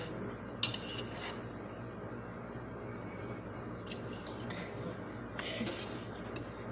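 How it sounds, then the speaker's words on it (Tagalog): Utensils gently mixing a fish dish in a pot or bowl, giving soft scraping and occasional metallic clinks, close and quiet, with a louder clink near the start and sparse clinks later. "Dinadahan-dahan pa niyang pag-mix."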